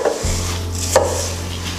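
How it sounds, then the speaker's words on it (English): Oats being mixed into Christmas treat dough in a bowl, a short scraping, rubbing stir with a thump at the start and a low steady hum behind it. "Make sure you mix this around good, okay? Because you want to make sure the oats are getting into this dough."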